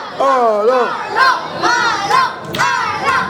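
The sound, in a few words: crowd applauding and cheering for Alain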